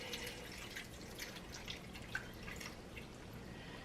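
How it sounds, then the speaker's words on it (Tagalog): Water pours and drips softly into a cooking pot of milkfish paksiw, a faint, steady splashing trickle with small drip accents and no talking. "Buhusan na natin ng tubig."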